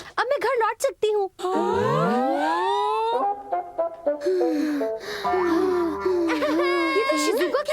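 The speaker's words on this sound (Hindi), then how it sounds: "ये तो शिज़ुका की रोने की आवाज है" Cartoon girl crying in a Hindi-dubbed Doraemon episode, wavering high sobs and wails that rise and fall, close and loud, mixed with other animated voices and background score.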